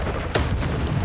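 A Confringo fire spell bursts with a loud, booming explosion in the Hogwarts Legacy video game, striking suddenly after a brief quiet moment and rumbling on densely to the end.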